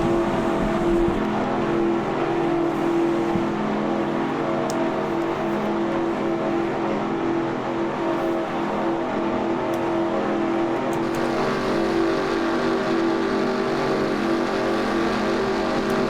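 A Corvette race car engine, heard onboard in the NASCAR Racing 2003 video game at Orlando International Speedway, holds a loud, continuous high-revving drone at steady pitch throughout, with no voices.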